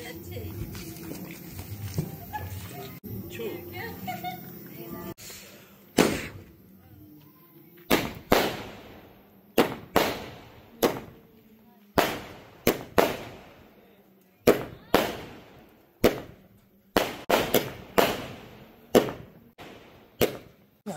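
Firecrackers set off for Diwali outside a house before a dinner invitation, a first stretch of chatter and mixed noise giving way to a long run of sharp, loud single bangs, roughly one every second or so, each with a short echoing tail.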